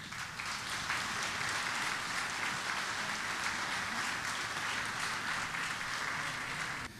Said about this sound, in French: je vous demanderai de vous applaudir